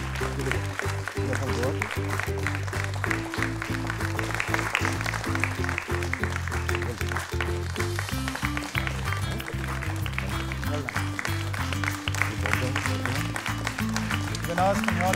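Applause at a quiz event continues under someone speaking over a loudspeaker, with a dense patter of clapping running steadily beneath his voice.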